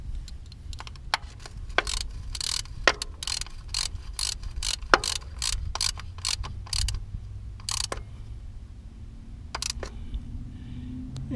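Jeep Wrangler transfer case fill plug being threaded and tightened back in by hand tool, a run of sharp close ratcheting clicks in quick bursts with short pauses, alone without talk.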